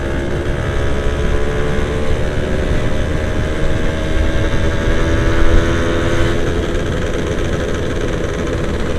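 A Yamaha F1ZR two-stroke motorcycle engine idles steadily and loudly up close, a continuous buzzing drone with a slight swell in the middle and no voices.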